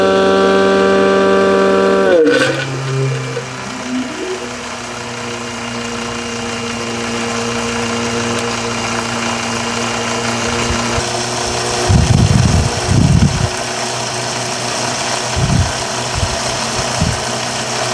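A pump draws rear differential fluid through a hose from a 2015–2022 Chevrolet Colorado or GMC Canyon, with a steady motor whine. The pitch shifts early on, and intermittent gurgling slurps come toward the end.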